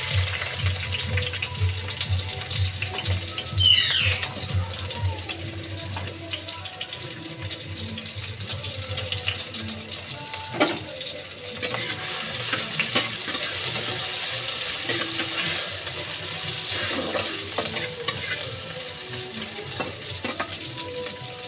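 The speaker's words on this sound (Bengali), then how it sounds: "বাদামি করে পেঁয়াজটা ভেজে নেব" Onion fries with a little salt in a pan after potato and pointed gourd, a steady loud sizzle with occasional stirring scrapes and clinks throughout.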